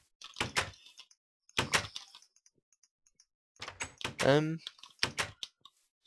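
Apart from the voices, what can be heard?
computer keyboard typing in background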